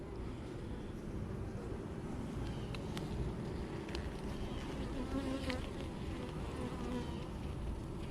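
Honey bees buzz in a dense, continuous drone around an opened hive during an inspection, steady and fairly close, with occasional faint clicks of handling.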